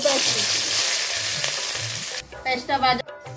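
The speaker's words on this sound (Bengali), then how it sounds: "পেঁয়াজটা ভাজা হয়ে গেছে" Onions sizzling loudly in hot mustard oil, then the frying quiets and gives way to scraping and stirring sounds in the pan.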